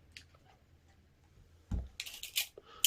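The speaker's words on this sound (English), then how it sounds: "I'm going to cut through both of these layers with my good Kai scissors." Good Kai scissors snip through two layers of lining fabric, with a few crisp close cutting bursts following a quiet stretch.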